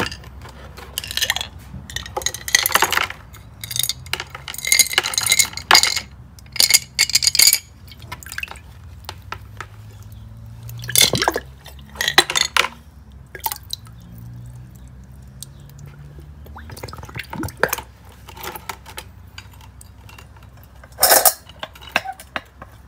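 Resin-treated rainbow matrix stone pieces are tipped out of a container in a series of irregular clattering, clinking bursts with wet drips and small liquid sounds between them. Close and fairly loud, no talking.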